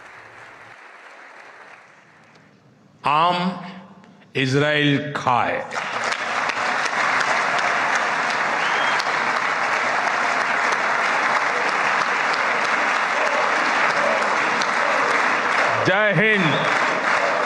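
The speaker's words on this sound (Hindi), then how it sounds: "तालियों की इस गड़गड़ाहट को आप सुनिए" Israeli parliament members give a long, thunderous ovation for the visiting Indian Prime Minister, sustained heavy clapping after brief speech at the start, with a voice breaking in near the end.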